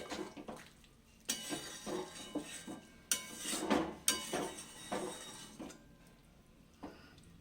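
A cauliflower curry is stirred carefully in a pot, with soft scraping and occasional metallic clinks of the spoon against the pot at an uneven pace, fairly quiet, with faint background noise.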